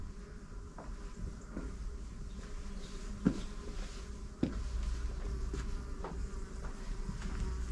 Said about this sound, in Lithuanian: Čia labai daug bičių, neikit čia.